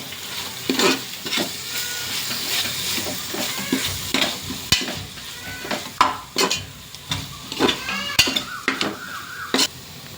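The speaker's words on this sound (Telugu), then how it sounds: "ఇప్పుడు అల్లం వెల్లుల్లి పచ్చి వాసన పోయే వరకు వాటిని బాగా తిప్పుతూ ఫ్రై చేద్దాం." Ginger-garlic paste sizzles and fries in hot oil in a pan while a spoon stirs it, with steady hissing broken by frequent scraping clicks and clinks against the metal, close up and without speech.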